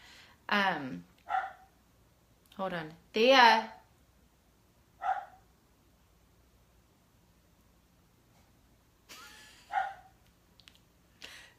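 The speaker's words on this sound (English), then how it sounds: "Can you hear my dog barking?" A dog barks several times at a distance, short sharp yelps spread across the clip, with a person briefly speaking between them.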